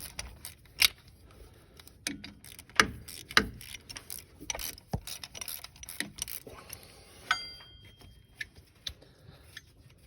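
A socket wrench works on an alternator bolt of a Mitsubishi Pajero, giving close, irregular ratcheting clicks and knocks. Sharper taps stand out in the first half, and quieter clatter follows.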